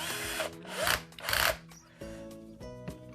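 Engine bolts being torqued down with a wrench during engine repair work, giving a few ratcheting, grinding bursts of metal tool work close by, with steady tonal hum between them.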